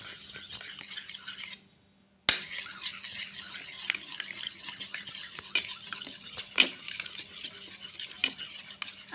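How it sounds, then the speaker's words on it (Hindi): Two eggs being whisked in a bowl for pancake batter, a steady run of close, light scraping and clinking with a brief silent gap near the start. "अब हम इसको मिक्स करते हैं अच्छे से।"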